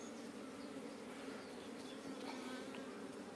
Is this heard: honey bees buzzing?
yes